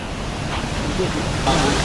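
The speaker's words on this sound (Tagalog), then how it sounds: "Ito, falls na rin ito ah." Payaran Falls in Rizal, a waterfall over rock formations with brownish water, pours as a constant broad roar of rushing water, loud and close, with wind buffeting the microphone.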